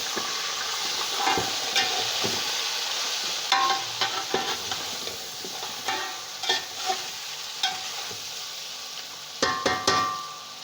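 Ground spices and two or three cinnamon sticks being stirred into beef nihari in a cooking pot, with a steady sizzle and a run of scraping, clattering stirring strokes that grow sharper toward the end.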